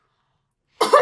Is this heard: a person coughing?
yes